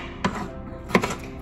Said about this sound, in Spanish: vamos a picar el jitomate